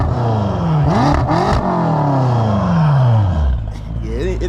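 A tuned 700 whp BMW M6 twin-turbo V8 revs up loud and close, its pitch climbing and falling in throaty sweeps, while voices talk over it.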